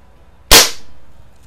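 A single sharp shot from a Daisy Powerline 1200 CO2 BB pistol fired at a target, a loud close crack with a short decaying tail and no talk.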